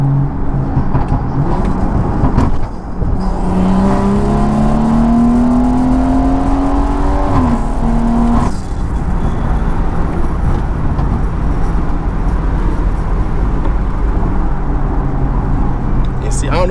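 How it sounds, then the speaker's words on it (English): BMW 340i launches and accelerates hard, its engine note climbing steadily in pitch through a gear with a loud interior roar, then settling, while the driver talks. "I'll launch in second gear though, so."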